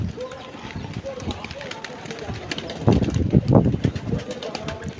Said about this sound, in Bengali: অনেক কবুতর রয়েছে